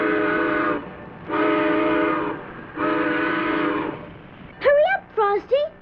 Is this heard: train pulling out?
yes